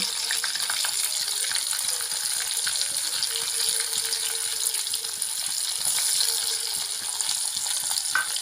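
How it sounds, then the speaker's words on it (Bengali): Crushed garlic and chopped onion frying in a pan, a continuous close sizzle dotted with light clicks and scrapes from stirring, with no speech. "এবার কিছুটা নেড়ে নিয়ে থেতো করে রাখা রসুন আর কুচি করে রাখা পেঁয়াজগুলো দিয়ে লাল লাল করে কিছুটা সময় ভেজে নেব"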